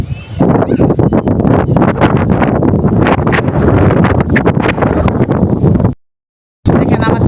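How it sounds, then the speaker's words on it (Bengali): Strong gusty wind buffets a rooftop under cloudy skies, roaring and rumbling loudly against the microphone in uneven bursts, then cutting out briefly before returning. "দেখেন আমার পিছনে কি বাতাস"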